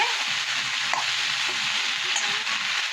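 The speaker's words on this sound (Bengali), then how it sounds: "ঢ্যাঁড়সটা আমার ভাজা ভাজা হয়ে গেছে" Okra fries in a pan with a steady, dense sizzle. The crackle is close and even throughout, with no talking.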